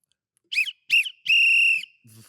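A referee's whistle is blown at a football debate with fans gathered: two short shrill blasts, then a longer sustained blast, sharp and fairly close, with a brief low murmur of voices at the end.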